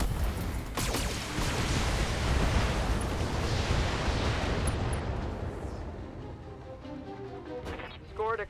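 Heavy weapons firing in the BattleTech mech video game: a loud rolling barrage of blasts and crashing impacts that fills the first half, then tapers into fading rumble with brief metallic whines near the end.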